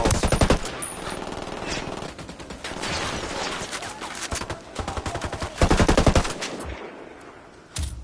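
Automatic gunfire in Tom Clancy's Ghost Recon Wildlands rattles in sustained bursts, with a louder volley near the six-second mark and a sudden pause before a final short burst.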